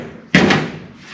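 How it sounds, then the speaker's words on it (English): A car door panel, part of an upholstery job, gets pushed into place over the door with a single sharp thump and a brief scraping rustle, then quiet. "See, the door panel will slide over the door like that."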